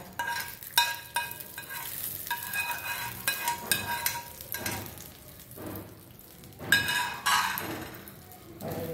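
Hot tempering of mustard seeds, urad dal and curry leaves is poured into a carrot and brinjal chutney, giving soft bursts of sizzling and stirring with a few light clinks of utensils, fairly quiet and without talk.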